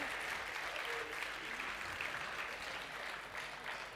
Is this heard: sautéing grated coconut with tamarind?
no